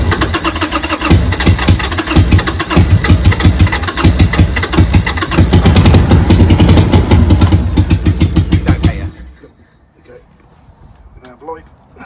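A small engine sputters to life and runs loud and rough for about nine seconds before cutting out, with people talking over the running and in the quiet afterward.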